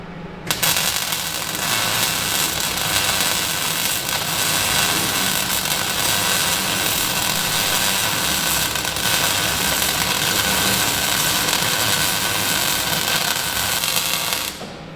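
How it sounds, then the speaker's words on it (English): A MIG welder laying a bead on the deck floor of an army truck being converted to a fire truck, wire speed set too fast, crackling and spitting in a loud, steady, continuous burst that runs nearly the whole stretch with no talking. "I'm going to try slowing that wire speed down a bit, but she's still firing way too fast."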